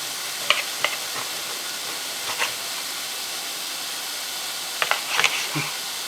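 Steady sizzling hiss of broccoli cooking in a pan, with a few sharp clicks and stirring clatters over the constant frying noise, nobody speaking.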